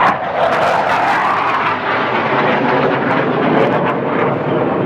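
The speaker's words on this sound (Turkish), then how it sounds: "Ve gördünüz savaş uçakları geçiyor F-16 jetleri." F-16 fighter jets passing over a city square near an old Roman agora in Thessaloniki, Greece, a loud continuous broadband roar filling the air without letup.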